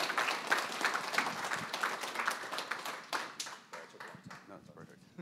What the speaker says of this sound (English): let's give a round of applause for Nabil.